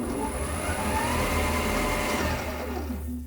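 A metal lathe runs with its chuck spinning, giving a steady whirring mechanical hum with a faint high whine, continuous and fairly close before easing slightly at the end; no voices.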